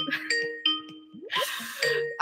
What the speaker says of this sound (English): Don't you like the Skype ringing sound?